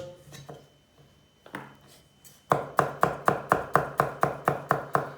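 Knife chopping a medium carrot and other vegetables on a board for a green lentil dish, starting with a few scattered cuts and then settling into a steady run of about ten sharp, evenly spaced chops, close and fairly loud.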